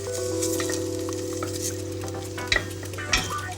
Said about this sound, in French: Et on va faire revenir notre riz à risotto.